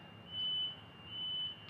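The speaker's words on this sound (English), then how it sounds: "Sounds like there's a siren. Oh, like an alarm going off in there." Two faint, steady high-pitched electronic beeps sound in succession, each lasting under half a second, from an alarm heard at a distance, in Innisfail, Australia.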